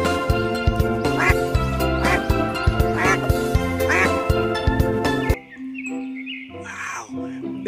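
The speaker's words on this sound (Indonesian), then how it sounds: "Di sini ada hewan bebek." A duck quacks repeatedly in short bursts over a bright, cheerful musical backing; the music cuts off and a few quacks continue.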